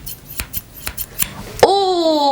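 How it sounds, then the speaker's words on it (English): Professional hair-cutting scissors snip several times in quick succession at close range, followed by a ringing metallic shimmer as the blades close. "I bought professional hair cutting scissors!"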